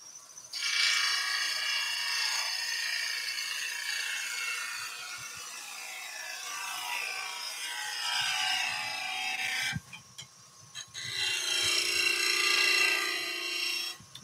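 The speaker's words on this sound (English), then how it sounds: "We're going to go back in there with a skew." Skew chisel cutting wood on a lathe while turning tea light candle holders: a close, bright rasping hiss that sweeps on and off in cuts, with a short pause before a final pass, and no talking.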